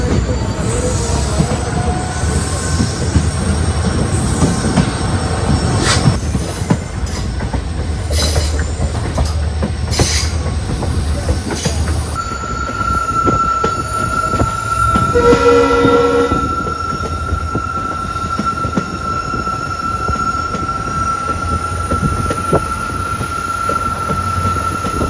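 The Kollam–Chennai Egmore Express runs on rails between Kollam and Aryankavu, heard from aboard as a constant rumble with rhythmic wheel clatter, squealing wheels and a sustained high tone midway, with no talking.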